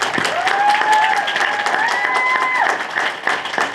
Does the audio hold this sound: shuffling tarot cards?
no